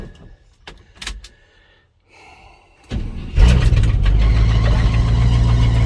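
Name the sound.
1984 C10 305 engine cold start with squealing belts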